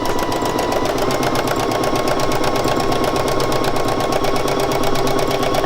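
A sewing machine running at a steady pace, free-motion stitching on soluble dissolvable fabric, gives a fast, even, rattling needle chatter, loud and close throughout with no talking.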